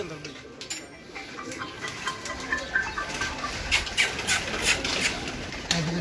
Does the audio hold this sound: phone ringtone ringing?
no